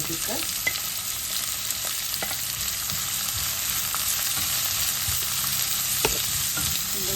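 Maldive fish, umbalakada, fries in a pan with salt and green chilies for a Sri Lankan banana blossom dish, a steady close sizzle with faint stirring scrapes and no talk.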